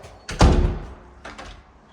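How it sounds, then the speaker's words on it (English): A building door slams shut violently with one loud heavy thud that rings out and decays, followed by fainter rattling knocks, no talking. "We're headed back out this door that slams violently."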